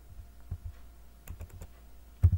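Quiet keystrokes tap on a computer keyboard while Python tkinter GUI code is typed. A few soft, separate clicks come first, then a quick cluster and a louder pair near the end, with no voices.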